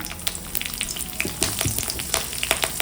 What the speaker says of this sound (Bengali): তেল গরম হয়ে গেছে তেলের মধ্যে দেব কালো জিরে কেটে রাখা কাঁচা লঙ্কা